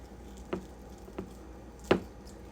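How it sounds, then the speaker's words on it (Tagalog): A knife slices through a sour, not fully ripe mango in three quiet, separate cuts, each a soft, brief squishy thud with gaps of about half a second to a second between them. "Paghihiwa ng mangga"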